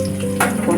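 Carrot pieces frying in a pan for onion fried rice give a steady close sizzle with a brief louder hiss partway through, no voices.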